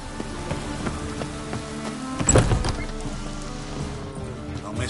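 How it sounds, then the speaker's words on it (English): Steady video game rain patters across a surface with a constant wash of drops, briefly swelling into a louder splash near the middle. "Lots of rain."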